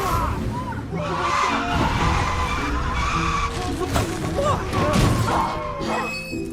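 Car tires screeching and skidding after a blowout in a movie scene, with crashing and shattering noises mixed in, loud and continuous with a dramatic soundtrack and some voices beneath.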